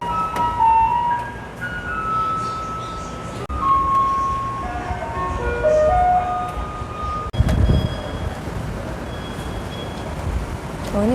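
Garbage truck in Taiwan driving past, playing its melodic tune over a steady rumbling engine and street noise, the music loud and close with a brief louder thump partway through.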